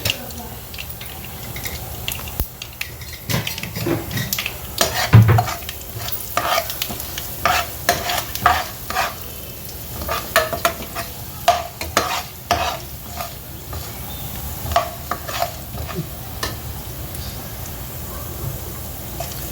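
Cumin and asafoetida tempering sizzle in hot oil in a pan for masala dosa, a steady crackling fry with repeated stirring scrapes and clinks throughout, fairly close.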